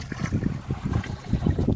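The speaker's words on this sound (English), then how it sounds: "Getting seasick out here. Hitting the big waves." A boat out on a lagoon slams through big waves, making a quick series of low, muffled thuds with splashing and wash, close and steady, without speech.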